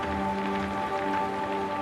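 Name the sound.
continuous rhythmic rain falling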